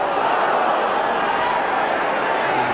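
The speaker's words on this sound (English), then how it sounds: "How the crowd respond when Pearce goes forward." A football crowd at a 1991 FA Cup fifth round replay between Nottingham Forest and Southampton roars steadily as Pearce pushes forward, a continuous, dense wash of noise from the stands.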